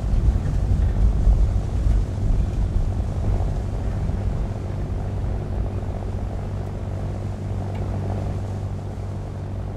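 Steady droning roar of a Fw 190 D-12 fighter's piston engine and propeller in War Thunder simulator flight, loud and continuous with wind rush and no voices.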